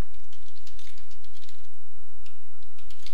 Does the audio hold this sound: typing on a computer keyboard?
yes